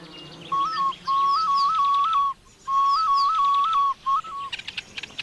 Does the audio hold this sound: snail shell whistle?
yes